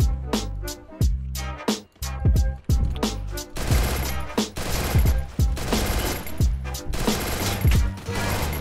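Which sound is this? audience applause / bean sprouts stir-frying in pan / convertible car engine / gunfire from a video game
gunfire from a video game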